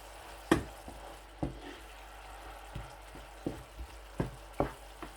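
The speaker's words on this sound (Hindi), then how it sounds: "अदरक जो मैंने काटा हुआ है वो इस तरीके से मैं ऐड कर दूँगा। और खूब इस तरीके से हिलाऊंगा इसको।" Chopped ginger tossed into tawa keema frying on a griddle, a soft steady sizzle broken by repeated scraping knocks of a spatula stirring the mince, about eight irregular strokes.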